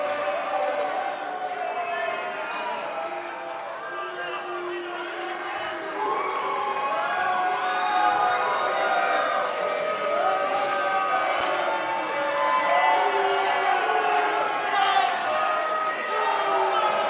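Wrestling arena crowd in the WWE 2K19 video game, a steady roar of cheering and crowd noise running throughout, swelling slightly louder partway through, with a commentator talking over it.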